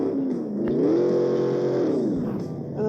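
A green car drives in the video game Turbo Dismount, its engine note steady and fairly loud, rising and holding through most of the moment before easing off, heard alone without talk.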